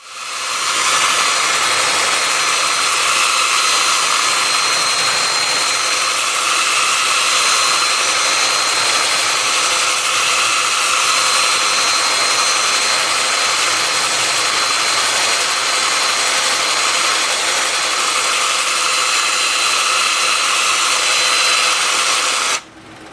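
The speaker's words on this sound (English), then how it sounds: "I'm starting the sanding at 150 grit on my 2-inch disc" A constant high-pitched whirring hiss of a 2-inch, 150-grit sanding disc running against wood turning on a lathe, steady and loud for over twenty seconds, then stopping abruptly.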